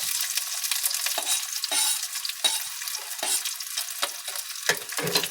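Chopped onions sizzle steadily in a hot pan, while repeated scraping strokes from a stirring utensil break through the frying hiss every half second or so.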